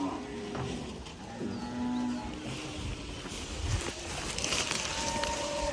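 Cows at a cattle shelter near Baba Bakala Sahib low and moo repeatedly amid a busy outdoor background hum, with no talking.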